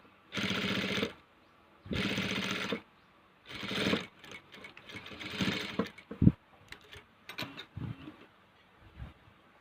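Several bursts of a sewing machine stitching a washable cloth face mask, each running about a second with short pauses between, followed by softer handling clicks and knocks of the fabric and machine nearby.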